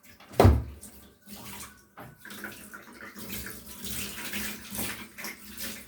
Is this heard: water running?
yes